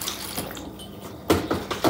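One cup of milk poured into a bowl during home cake baking, a soft liquid splash and trickle, close and moderately loud, with a few louder splashy bursts toward the end.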